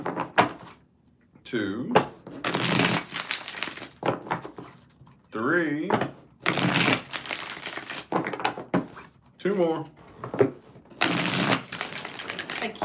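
Tarot cards being shuffled in several bursts of riffling and crinkling, interleaved with a person talking between them.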